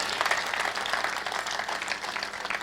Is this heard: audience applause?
yes